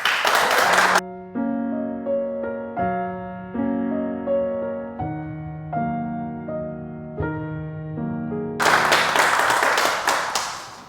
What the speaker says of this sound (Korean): 힘찬 박수로 맞아주시기 바랍니다